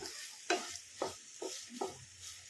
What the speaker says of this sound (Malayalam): ഇനി ഇത് ഓയിലിനകത്ത് കിടന്ന് നന്നായിട്ട് ഫ്രൈ ആയിട്ട് വരണം